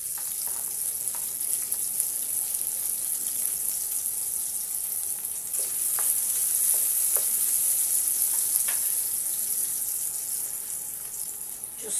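Onion and garlic sauté in a pan for Filipino ginisang monggo with tinapa, a steady hiss of frying with a few sharp stirring clicks and scrapes, heard close and without speech.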